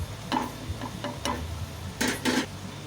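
Spices drop into hot oil and melted butter in a pan, giving a low sizzle under a few sharp clicks and scrapes of a spoon stirring against metal, with two louder bursts near the end.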